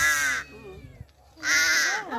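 Two loud, harsh crow caws on a coconut farm, one at the start and one after a short pause, with low background noise and faint movement between them.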